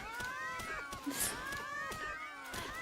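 Game-like cat heads meow repeatedly in a steady stream of high, curving mewing calls over a busy background of sound effects, continuous and fairly loud throughout.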